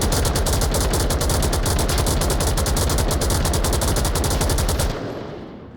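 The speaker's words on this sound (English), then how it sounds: "More rounds dumped down range." Continuous rapid automatic gunfire from the VR shooter game Onward during a competitive match, loud and close, a dense rattling stream of shots for about five seconds that stops abruptly, leaving a fading echo.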